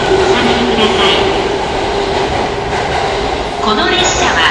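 A Yokosuka Line train at the underground platform of Tokyo Station, with loud, steady rail rumble and clatter filling the whole stretch and a brief squeal of wheels near the end.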